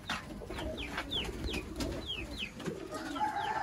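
Breeder pigeons coo nearby in a quiet setting, a soft run of repeated short calls at a fairly even rhythm over low background noise.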